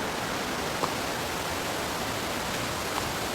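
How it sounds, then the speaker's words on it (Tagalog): Steady, dense roar of a waterfall at a tourist spot in Valencia, Negros Oriental, a constant broadband rush of falling water close by with no pauses. "Dito na kami sa waterfalls."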